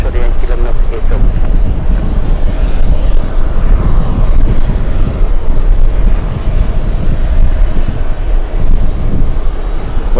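An Airbus A380 airliner arrives at JFK airport with a loud, continuous jet roar close by. The broadband rumble stays steady throughout, with some wind buffeting on the microphone.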